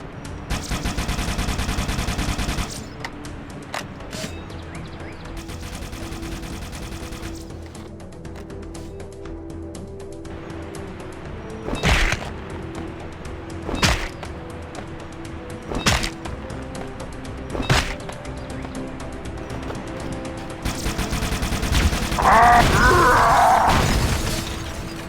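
Halo: Combat Evolved Needler from the video game, firing a stream of sharp shots with a few separate louder bursts, then a mechanical reload and melee rattle near the end, loud and close with no talk.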